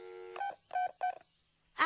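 A telephone keypad is dialed, with a held tone followed by three separate beeps spaced evenly apart, fairly quiet and clear against near silence, ending in a short louder burst.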